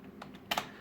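A few quiet keystrokes on a computer keyboard as a patient's name is entered at a CT scan station: two soft taps, then a slightly louder quick pair near the end, close and isolated.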